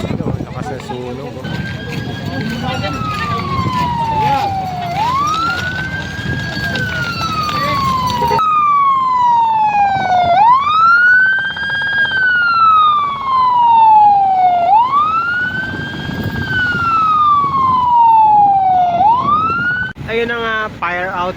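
Fire truck sirens arriving at a fire, loud wailing tones rising and falling in repeated sweeps over rumbling traffic while people talk nearby.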